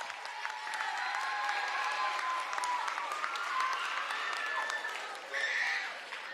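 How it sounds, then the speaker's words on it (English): An audience at a school event honoring a teacher of the year claps steadily for the drummers, a sustained round of applause with a brief burst of louder clapping near the end. "Let's give another round of applause to our drummers."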